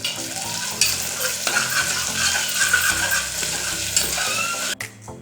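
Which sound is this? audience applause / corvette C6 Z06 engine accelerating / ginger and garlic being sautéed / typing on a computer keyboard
ginger and garlic being sautéed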